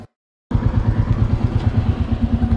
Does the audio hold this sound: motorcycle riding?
yes